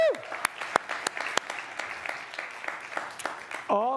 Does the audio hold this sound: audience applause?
yes